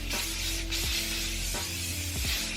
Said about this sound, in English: The hairspray I use is the Schwarzkopf Strong Styling Hairspray